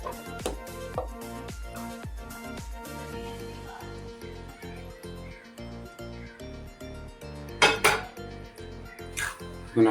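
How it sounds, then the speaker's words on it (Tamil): Egg noodles are mixed with a utensil in a pan, making a rapid run of close clinks and scrapes against the metal, with louder clattering knocks toward the end. "நல்லா மிக்ஸ் பண்ணணும்."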